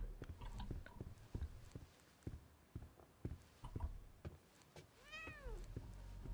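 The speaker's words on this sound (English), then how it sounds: "Let's go pet the kitty." A cat meows once in a video game, a clear rising-falling call amid quiet footsteps and soft ambient clicks, with no talking.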